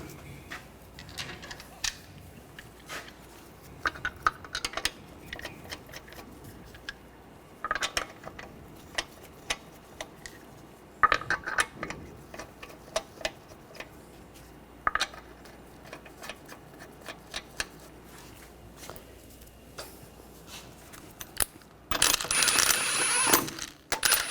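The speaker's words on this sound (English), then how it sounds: "Now install the wheel. Put the lug nuts on." Lug nuts threaded onto the front wheel of a 2013-2019 Ford Escape 2.0L by hand, heard as scattered metallic clinks, taps and light ratcheting across a quiet garage, ending in a louder burst of rattling.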